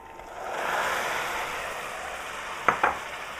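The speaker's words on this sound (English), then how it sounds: "So the onions and the garlic, obviously they've been frying." Onions and garlic frying in a pan for Sri Lankan lentil dal curry, a steady broad sizzle that swells then eases, with two sharp clatters near the end as the lentils go in.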